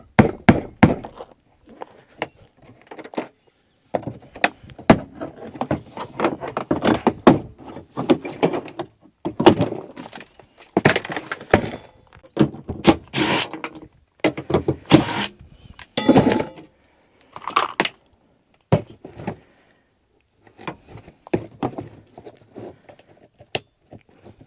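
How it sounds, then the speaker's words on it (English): Plastic interior trim on a Subaru Outback being pried loose during dismantling, a long run of close, sharp clicks, snaps and rattles in irregular bursts with short pauses, no talking. "Then we'll go ahead and pop this piece of trim out of the way so I can take the latch off this side."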